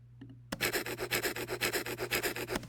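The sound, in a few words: unprocessed bubble wrap shaker foley sample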